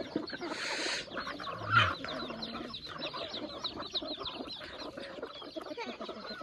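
Chickens cluck steadily at feeding time with ducks around, a dense, close run of quick clucks with one louder call early on.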